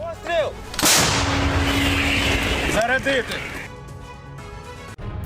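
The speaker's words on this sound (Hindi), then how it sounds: "रूसी सैन्य ठिकानों पर M777 होवित्जर तोपों ने धमाकेदार हमला किया।" Loud booming blasts from an M777 howitzer firing, with a heavy roar and rumble trailing each shot, while a voice speaks over the din.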